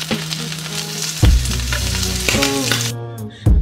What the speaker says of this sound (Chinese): 虾头先下锅煸出虾油